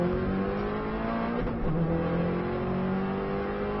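A Subaru car accelerates hard along the Isle of Man lap, a loud, steady engine drone rising in pitch through a gear change midway, heard from inside the car with no voices.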